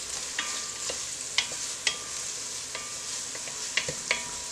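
Onions frying in a pot for chicken and noodle soup give a steady, soft sizzle, broken by a few sharp clicks and scrapes from stirring.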